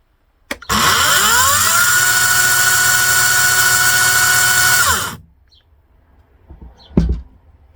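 A loud Ozito/Einhell PXC 36V cordless electric chainsaw whines at a steady high pitch for about four seconds, then winds down and stops, followed by a short clunk.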